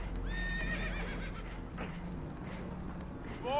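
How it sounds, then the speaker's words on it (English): Spooked horses on a boat taking on water in Red Dead Redemption 2, with a couple of shrill whinnies rising over a steady low rumble of water and movement, plus another neigh starting at the end. "Horses are spooked, and we're taking on water."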